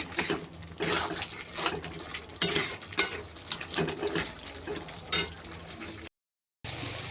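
A spoon stirs mutton with cashew and pistachio paste in a pan, giving repeated scraping and clinking strokes with a soft sizzle in between and a brief silent gap near the end.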